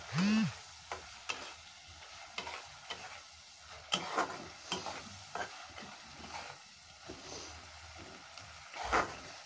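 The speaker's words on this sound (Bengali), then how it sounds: "মশলাটা কষানো হয়ে গেছে প্রায়।" Spice paste being sautéed in a pan for a Bengali shing fish and tomato curry, with soft sizzling and intermittent stirring scrapes and clinks, close and fairly quiet, no talking.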